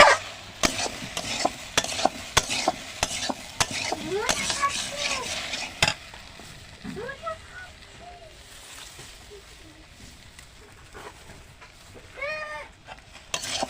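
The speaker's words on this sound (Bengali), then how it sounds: "এবার খুব সুন্দরভাবে কষাই করে নেবো" Koi fish curry with taro, green chilies and chili powder stir-fried in a pan, with rapid loud spatula scrapes and clanks during the first half, then a quieter sizzle with occasional stirs and faint voice-like chirps in the background.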